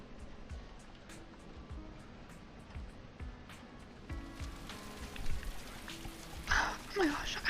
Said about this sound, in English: Let's go out in the rain.